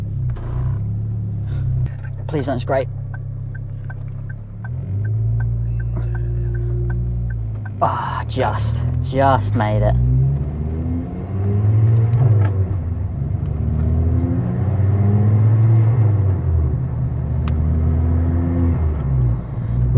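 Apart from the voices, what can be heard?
Ford Focus ST225 turbo engine and exhaust while driving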